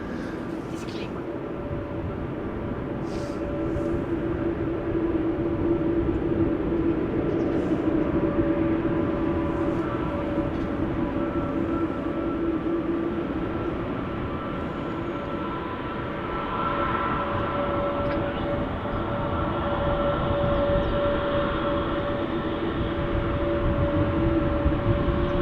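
A loud, steady aircraft engine roar with a sustained whine at Amsterdam Schiphol Airport, droning continuously and swelling slightly partway through.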